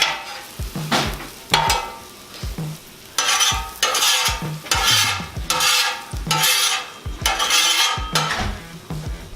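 Onions frying and being stirred with a metal spatula on a 36-inch Blackstone flat-top griddle, a steady sizzle broken by repeated loud scraping strokes against the steel in an irregular rhythm, close up with no talking.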